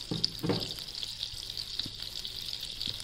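Cumin seeds crackle in a tablespoon of hot oil with a soft, steady sizzling hiss, broken by a few small pops and light stirring clicks, fairly quiet and with no talk.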